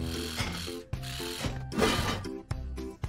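Quick ratcheting clicks repeat in short runs as a wrench turns to fix a hubcap in a children's cartoon game about a crocodile, with mechanical whirs between the bursts.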